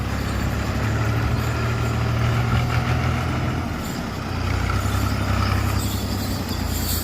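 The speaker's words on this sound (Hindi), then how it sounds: "ट्रैक्टर ट्राली जो आए थे उनको भी रिवर्स जाना पड़ रहा है" Tractor pulling a trolley in reverse up a steep mountain road, a loud steady diesel engine rumble that drones on throughout with a brief dip midway, heard close by with no talking.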